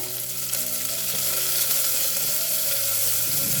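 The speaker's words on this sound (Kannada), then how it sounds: "ಈರುಳ್ಳಿ ಮತ್ತು ಹಸಿಮೆಣಸಿನ್ಕಾಯಿ ಎಲ್ಲನೂ ಒಂದು ಸ್ವಲ್ಪ ಕೆಂಪದಾಗೆ ಆಗೋ ತನಕ ಹುರ್ಕೊಳ್ಳೋಣ" Onions and green chillies fry in hot oil in a pan, a constant dense close sizzle with light stirring and no talk.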